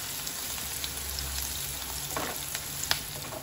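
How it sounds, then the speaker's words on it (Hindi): Onions sizzle in a hot pan while being browned lightly for Mayonnaise Maggi noodles, a steady close crackle with occasional stirring scrapes and pops, no voices. "ओनियन को लाइट ब्राउन करना है, उसे ज़्यादा डार्क करना नहीं है।"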